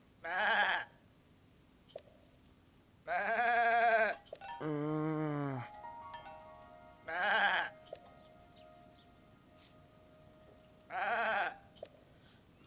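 Several separate goat bleats in The Legend of Zelda: Tears of the Kingdom, short and nasal, sound at irregular intervals against near silence, with a faint electronic tone lingering in between.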